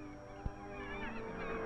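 Gulls call continuously at Percé in Gaspésie, a shifting wash of overlapping wavering cries from a large flock, moderately loud and steady, with a single soft thump early on.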